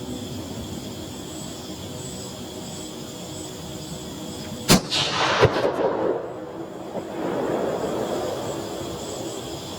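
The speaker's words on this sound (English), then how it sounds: "another great shot by old Leroy, half inch from dead center" A 6mm ARC AR-15 fires a 103-grain ELD-X round at a ballistic gel target outdoors: one sharp, loud crack that breaks a quiet background, followed by a second short report and a fading, rolling rumble.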